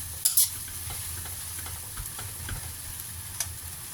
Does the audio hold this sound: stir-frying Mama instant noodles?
yes